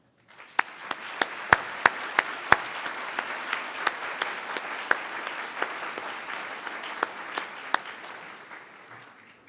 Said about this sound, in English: may I invite you to join me in giving a very warm round of applause for the